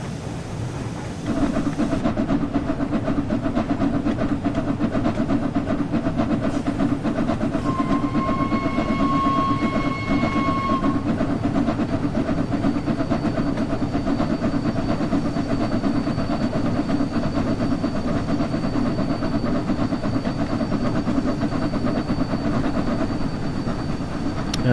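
Flying Scotsman steam locomotive running in the game Train Sim World 4, a steady rumbling rail drone with rhythmic wheel clatter and a brief tonal whistle-like whine early on, continuous and fairly loud.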